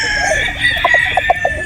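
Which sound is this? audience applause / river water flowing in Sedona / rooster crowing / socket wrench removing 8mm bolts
rooster crowing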